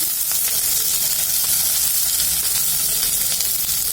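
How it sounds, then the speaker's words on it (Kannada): Capsicum and onion sizzle steadily in a hot pan for brinjal palya, a continuous close frying hiss with faint stirring, no voices. "ಅದ್ರ ಜೊತೆನೆ ಕ್ಯಾಪ್ಸಿಕಮ್ ಹಾಕ್ಬಿಡ್ತಾ ಇದ್ದೀನಿ"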